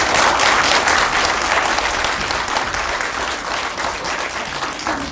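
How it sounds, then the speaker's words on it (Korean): Audience at a Korean public forum applauding after a presentation, dense continuous clapping from a sizable crowd, loud and steady throughout before tapering slightly. "다시 한번 박수 부탁드립니다"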